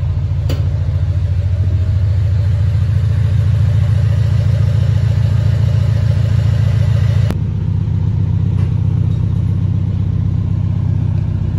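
A car engine, freshly cold-started with its clutch just adjusted, runs loud and close with a steady low rumble, then briefly rises in pitch as it is revved before settling back to a throbbing idle; no one speaks.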